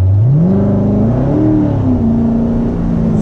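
A C7 Corvette with its mufflers deleted revs loudly up close, the exhaust note rising in pitch, then settling into a steady, deep drone with a slight dip near the end.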